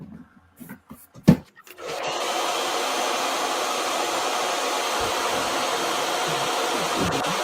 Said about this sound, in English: I'll hit this with a blow dryer right now.